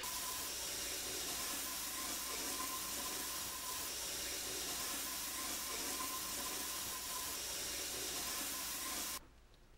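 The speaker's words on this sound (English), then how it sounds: "And now you're gonna wash your hands," Hands lathered with soap are rubbed together without rinsing, a steady close wet hiss and squish running almost unbroken before cutting off abruptly near the end.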